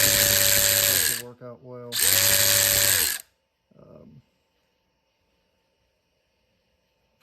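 A DeWalt DCF500 12V cordless electric ratchet whines loud and close in two bursts of about a second each, separated by a short pause, then falls quiet as a brief voice follows.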